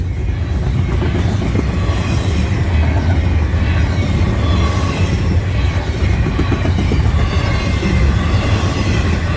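A CN freight train rumbles steadily past nearby near Ladysmith, loud and continuous, with clattering wheels and a low mechanical drone throughout.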